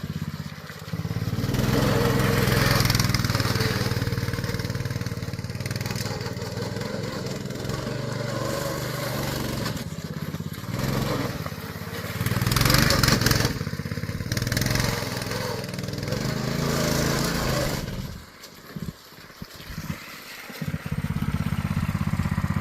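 A go-kart with a Honda GX160 engine and a 2:1 reduction gearbox runs and drives close by, its small single-cylinder engine buzzing loudly and rising and falling with throttle before dropping to a rough idle near the end.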